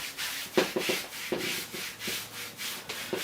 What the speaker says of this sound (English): Rubbing can go in any direction.